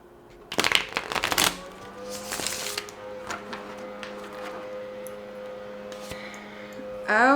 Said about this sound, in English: we're going to pull some cards